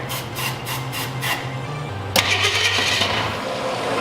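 A 1966 Ford Mustang engine, primed with carb cleaner, cranks in several rhythmic starter pulses, then catches with a sudden burst and settles into a rough, close-up idle.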